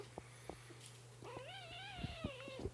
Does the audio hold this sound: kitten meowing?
yes